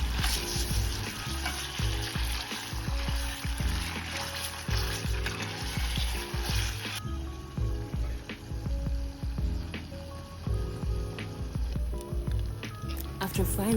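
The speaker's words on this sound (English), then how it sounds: "Next, I added the tomato paste, stirred, and allowed it fry properly." Tomato paste sizzles and fries in a pan while a utensil stirs and scrapes repeatedly, a busy crackling texture throughout.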